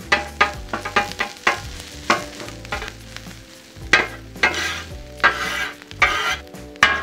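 A metal spatula chops chorizo and burrito fillings on a Blackstone flat-top griddle with sharp repeated clanks and scrapes over a light sizzle. Music plays in the background.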